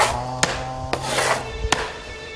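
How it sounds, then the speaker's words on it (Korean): Tile setter's hand tool scraping down a raised patch of surface before tiling, a steady rasping rub punctuated by three sharp knocks, close and fairly loud with no talk. "여기 면을 긁어줘야 돼요"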